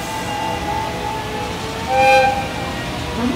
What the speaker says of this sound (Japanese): 普通千葉行きが参ります